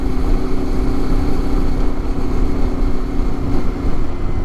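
Steady, loud engine drone of a BMW IBEX-equipped motorcycle cruising a two-lane canyon blacktop, continuous throughout with wind rush and no talk.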